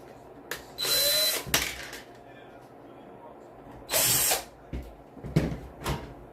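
Power drill or driver backing screws out of a PC case during a rebuild: two loud high whirring bursts of about a second each, with clicks and handling knocks in between, while a person talks nearby.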